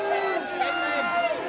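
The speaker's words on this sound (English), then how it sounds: "just got crowd reaction" Crowd at an anti-lockdown protest reacting with a swell of raised voices and shouting, brief and fairly loud, over general babble.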